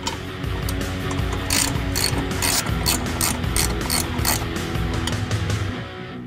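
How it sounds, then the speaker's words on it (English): Hand ratchet clicks rapidly and repeatedly up close while removing exhaust cross member bolts on a Ford Mustang GT, with dense bursts of pawl clicking running throughout over a faint workshop hum. "Now we're going to remove our cross member."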